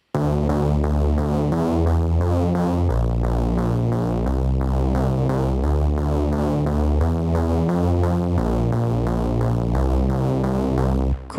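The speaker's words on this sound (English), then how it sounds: "So I came up with this quarter note bass part, fairly straightforward." A steady quarter-note bass line made with a Vochlea Dubler 2 voice-to-MIDI setup, with sustained tones layered above it and pulses held at an even pace throughout, loud and clear with no talking.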